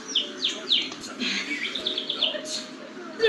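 A pediatric dentist imitates bird chirps for a child, voicing a series of close, bright tweets and whistled calls in quick, uneven bursts.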